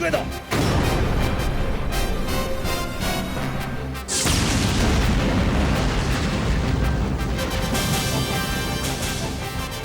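Heavy booming blasts roar like cannon fire, with a big explosive burst midway and sustained rumbling, crackling barrage throughout, from an animated series battle.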